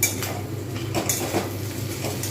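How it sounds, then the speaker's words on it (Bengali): A metal lid lifted off a pan of frying aubergine and potato, giving a few close clinks of metal against metal over a steady background hiss. "এইবার আমি ঢাকনাটা খুলবো দেখবো কী অবস্থায় রয়েছে"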